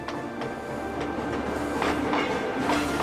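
A railroad train rolls along the tracks in the 1850s, a steady rumbling wagon noise with faint rhythmic clacks of the wheels, continuous and fairly close, with no voices.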